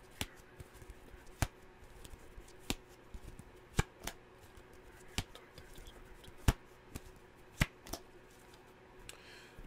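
Tarot cards shuffled and drawn for a reading: a string of sharp, distinct slaps and riffles, about a dozen spaced through the clip, close and crisp over a quiet room background.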